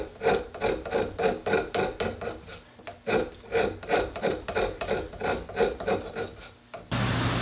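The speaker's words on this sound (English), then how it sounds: "we're going to start sanding or filing from the other side" A hand file rasps rhythmically across a wooden Citori shotgun stock, steady back-and-forth strokes close and loud, with a brief pause before a change in background hum.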